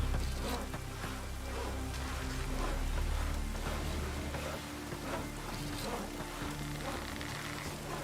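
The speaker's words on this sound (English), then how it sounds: "Rain's back again." Rain falling in The Witcher video game on the Isle of Mists: a dense, steady wash of rainfall holding constant, with a low rumbling undertone at the start and no talk.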